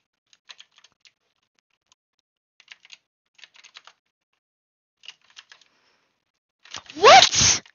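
A computer mouse clicks in quick, sparse bursts during Minecraft bridge duels, crisp and close, before a sudden loud whooshing burst at the end.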